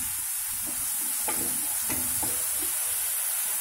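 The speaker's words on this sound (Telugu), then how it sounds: "వేగింది, ఉల్లి ముద్ద వేగింది." Onion paste frying in a pan for a fish curry, with a steady soft sizzle and a few light scraping stirs of a spoon against the pan, all close and without talk.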